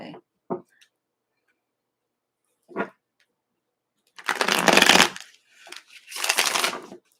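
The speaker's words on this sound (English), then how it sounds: "One more shuffle." Playing cards are riffle-shuffled twice in quick crackling bursts, close up, after a few soft taps and brief quiet stretches.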